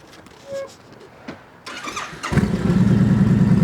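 After a few quiet clicks and rustles, a Honda Fury 1300 motorcycle engine with 28,000 on the odometer cranks and catches, then settles into a steady, low rumbling idle nearby.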